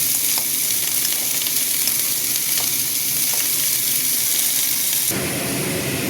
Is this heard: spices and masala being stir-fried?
yes